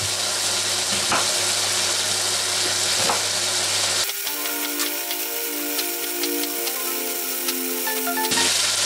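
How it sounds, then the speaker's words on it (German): Roughly chopped vegetables being browned in a pan alongside turkey roast, a dense steady sizzle that abruptly thins into lighter crackling and scraping midway, then returns, with no voices. "schneide ich einfach nur in grobe Stücke alles und brate das ein bisschen mit an"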